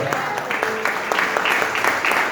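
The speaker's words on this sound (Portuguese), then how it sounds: "Pode bater palmas para o Senhor." Church congregation clapping together during a worship service, a dense burst of applause that carries on steadily for a couple of seconds.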